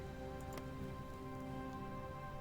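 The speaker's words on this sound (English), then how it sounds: "Ah, here we go. Rain." Rain weather in Hearts of Iron IV over the deep ocean, a soft continuous patter of rain under a steady droning game music bed, faint and unbroken.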